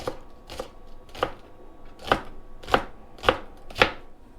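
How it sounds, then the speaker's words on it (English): Green onions being chopped with a knife on a board, seven crisp separate thuds at a slow, even pace, close and clear against a quiet background. "We'll also go ahead and cut up some green onions."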